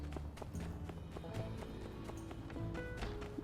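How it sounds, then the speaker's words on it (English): Horse hooves clip-clop at a trot behind a running character in the farming game My Time at Sandrock, the steady footfalls set against a quiet musical score. "my horse is following me around while I'm running around with my duster"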